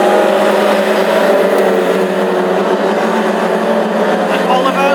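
Classic hot rod race cars thunder down the home straight at an Irish Grand Prix meeting in Tipperary, a loud, steady engine roar filling the whole stretch beneath continuous race commentary.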